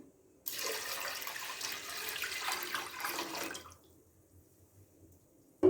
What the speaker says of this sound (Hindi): अब हम दाल में 1 लीटर पानी ऐड करेंगे।